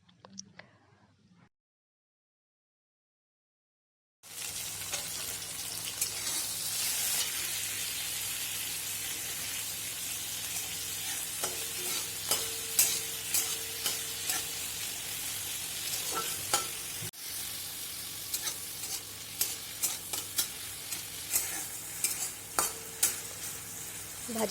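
Prawns coated with salt and turmeric fry and sizzle in a pan, a steady crackling hiss after a quiet opening, with small pops and light stirring clatter throughout.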